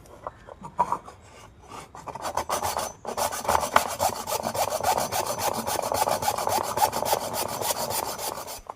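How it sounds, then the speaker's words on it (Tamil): Coconut shell pieces being cut to length with a hand saw, a steady rapid rasping stroke rhythm, close and loud, continuing alone for several seconds after a few scattered scrapes. "இந்த 3 சட்டையும் நீளத்துக்கு கட் பண்ணி எடுத்துடணும்."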